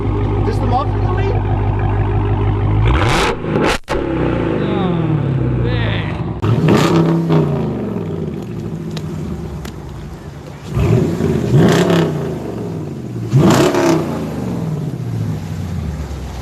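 Hemi V8 with a mid-muffler delete exhaust, deep rumbling idle with several sharp revs rising and falling, loud and close, while people talk nearby.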